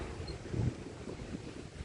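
Strong wind on the bank of the Dnipro River in Cherkasy, Ukraine, buffets the microphone in a steady low roar with gusty swells, no voices.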